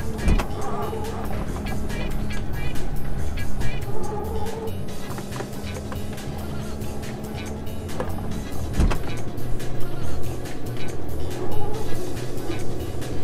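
Porsche 914 engine driving in a Need for Speed Porsche racing game, a mid-pitched motor note rising and falling with gear changes, with sharp clicks and knocks, and a voice speaking at times.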